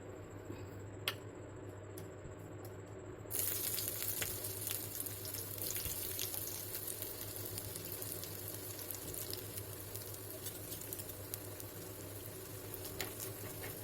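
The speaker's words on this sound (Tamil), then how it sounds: "ஆயில் ஹீட் ஆகிடுச்சு. இப்போ வந்து நம்ம அதில் ஆனியன் போட்டுக்கலாம்." Onions fry in hot oil for a veg cutlet, a steady fine sizzle with crackling ticks that jumps louder after about three seconds and then holds evenly close for the rest of the clip.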